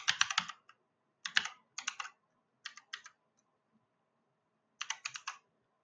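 Someone types code on a computer keyboard during a JavaScript lecture, with close, crisp clusters of rapid keystrokes separated by short pauses and no talking.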